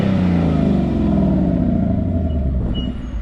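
A car engine with a loud aftermarket exhaust revs and drones steadily, close and continuous, the pitch sliding slightly down as it settles.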